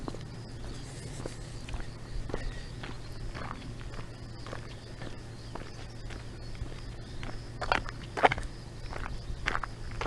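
Footsteps walk along at an irregular pace, soft, fairly near thuds over a low steady hum, a few scuffs standing out louder toward the end.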